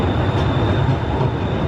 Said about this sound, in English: We got to deal with the train